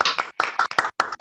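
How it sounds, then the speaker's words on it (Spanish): A small audience claps for Gustavito at the close of a coaching session recording, several short bursts of hand claps separated by brief pauses, close and fairly loud. "Un aplauso para Gustavito para terminar nuestra grabación."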